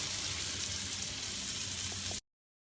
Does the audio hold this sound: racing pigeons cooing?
no